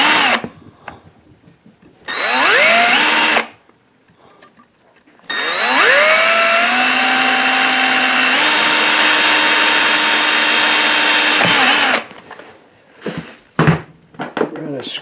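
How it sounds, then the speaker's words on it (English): A power drill whines in short bursts into a fiberglass bathtub floor, then runs in one long steady grinding stretch, loud and close, with brief pauses between. "drill into it."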